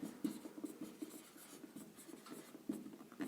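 A pen scratches out a math solution on paper in short, quiet strokes and taps, an irregular close-up rhythm with no voice over it.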